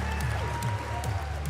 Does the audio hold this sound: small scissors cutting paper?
no